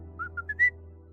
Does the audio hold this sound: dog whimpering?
no